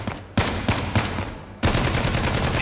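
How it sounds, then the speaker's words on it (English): Gunfire in a tactical shooter video game: a run of sharp shots in an uneven rhythm, then a louder, sustained burst near the end. The shots sound fairly full, with no talking over them. "I think the gunshots in the distance actually sound very realistic"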